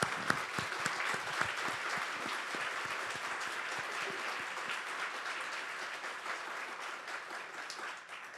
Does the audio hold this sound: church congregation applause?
yes